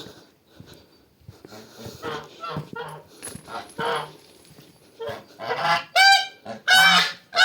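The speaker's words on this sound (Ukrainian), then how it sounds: "А ми випустимо гуси, виженемо за ворота." Geese honk in loud, bright bursts toward the end, after a stretch of quieter bird calls and some speech in the background.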